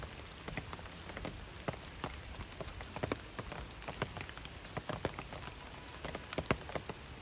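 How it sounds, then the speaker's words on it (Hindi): Heavy rain falls in Darjeeling, a constant hiss of water with close, sharp drips and splashes scattered throughout. "बंद नहीं हो रही बारिश भाई"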